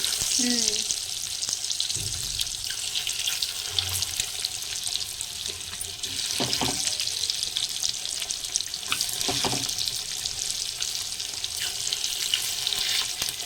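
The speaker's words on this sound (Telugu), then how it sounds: "మంచిగా ఒక 5 నిమిషాలు అట్లా ఆయిల్లో ఫ్రై అయితే ఎగ్ మంచిగా ఉంటుంది" Eggs frying in oil in a pan give off a steady, broadband sizzle for the whole stretch, with a few soft knocks and brief low thumps and no talking.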